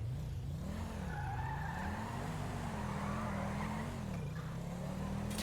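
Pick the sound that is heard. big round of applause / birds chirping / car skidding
car skidding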